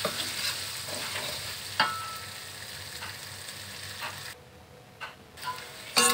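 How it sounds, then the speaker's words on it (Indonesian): Spice paste for a yellow-spiced snapper pickle (acar ikan kakap bumbu kuning) sautés in a pan, a steady close sizzle with occasional spatula taps and scrapes, briefly dropping quieter near the end. "Tumis sampai matang dan wangi"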